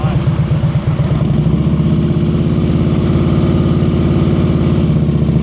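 A motorcycle engine idles and putters steadily at low speed during slow-speed riding practice in North Carolina, a close, continuous rumble with slight throttle changes, no talk over it.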